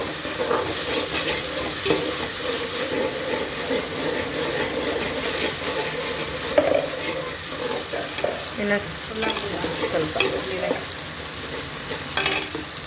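Tamarind juice with turmeric and other spices fries in oil for a fish sambar, a continuous moderate sizzle with occasional stirring scrapes and small pops, no one speaking over it.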